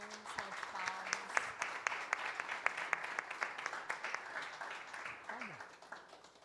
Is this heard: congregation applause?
yes